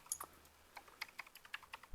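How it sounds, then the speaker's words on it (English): A computer keyboard clatters with quick, irregular keystrokes during play of the typing video game Blood Typers, close and fairly quiet with no voices. "I might start typing ahead of time simply because you can"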